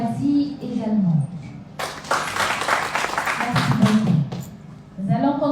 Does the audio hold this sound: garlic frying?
no